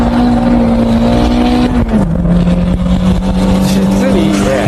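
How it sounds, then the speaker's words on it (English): A car's engine holds a steady, loud drone at full throttle while drifting, with a brief dip in pitch partway through as it slides, heard from inside the car with a voice talking over it. "I'm literally flooring it the entire way."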